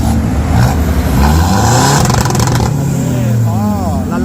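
A 2018 Ford Ranger XL+ 2.2 manual pickup with a remapped diesel engine revs loudly nearby, the engine note climbing and falling through a couple of blips.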